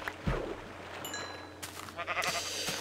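Sheep bleat in a blocky survival-crafting video game, a couple of short bleats over a busy game soundtrack with chimes and bright effects, moderately loud and close.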